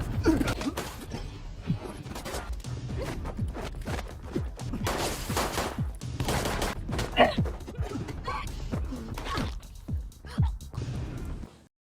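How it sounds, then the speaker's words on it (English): Sharp gunshot bursts crack through a chaotic fight scene, mixed with scuffling impacts, gasps and music; loud and busy throughout. "A fight between him and his assistants breaks out, Hyundu evading his gunshots"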